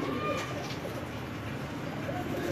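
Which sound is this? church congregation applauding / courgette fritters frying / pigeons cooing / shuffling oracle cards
pigeons cooing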